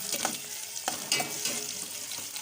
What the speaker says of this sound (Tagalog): Haluin ulit. Halo lang ang halo.